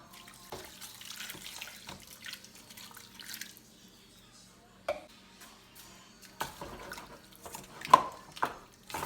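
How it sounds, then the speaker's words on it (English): Water runs and splashes from a tap into a cooking pot for tomato stew, with intermittent clatter and clinks of cookware nearby. "I'm going to add water."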